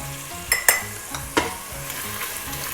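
Sliced onions with salt sauté in a pan for a beef curry, giving a steady close sizzle punctuated by several sharp metallic clinks and scrapes from a spoon stirring against the pan.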